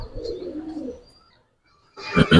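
Giribaz pigeons coo in a low, throaty burble close by, trailing off into a short silence before a louder burst of cooing and wing or cage noise.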